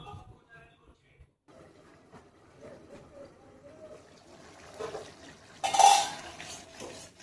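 A lid placed over a cooking pot of jackfruit in yogurt curry, with quiet handling and clatter leading to one louder metallic clank near the end.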